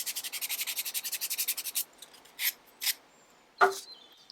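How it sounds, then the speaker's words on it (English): Sanding across solid wood furniture makes a rapid, even run of rasping back-and-forth strokes, close and fairly loud. A few slower, separate strokes and a brief clatter follow. "I simply sanded it off and did it again"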